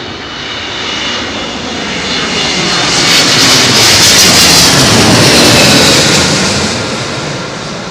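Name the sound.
airliner landing on runway 27L at London Heathrow Airport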